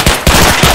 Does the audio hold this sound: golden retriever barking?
no